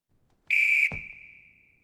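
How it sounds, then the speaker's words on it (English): In a large school gym, a coach gives one loud, sharp whistle blast lasting about half a second, cut off abruptly and followed by a short ringing echo in the hall. "That whistle is very loud"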